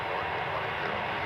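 An airliner at an airport makes a steady, broad engine roar, fairly loud and sustained without breaks, a dense whooshing rumble as the plane passes nearby.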